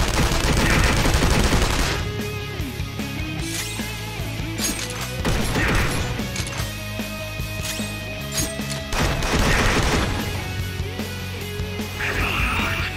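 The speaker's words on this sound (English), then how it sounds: "Let's start off with a gunshot from everyone" Gunshots from every party member in a Persona 5 Royal battle, a rapid burst of game gunfire and impacts layered over loud, dense game music and effects, with brief in-game voices.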